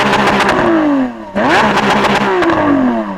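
Lamborghini Aventador SVJ V12 engine revving hard, loud and close, with two rising surges and a falling whine between, each climbing to a sharp high-rpm howl then dropping off.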